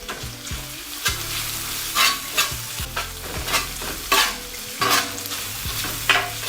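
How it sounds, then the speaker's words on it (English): Onions and peppers fry with chopped cheesesteak meat. A loud, steady sizzle runs throughout, broken by frequent sharp scraping and clattering strokes of a spatula tossing the mix, close up and with no talking. "I'm gonna throw in our onions and peppers into that now."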